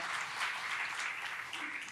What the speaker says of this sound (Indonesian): Come on yang percaya berikan tepuk tangan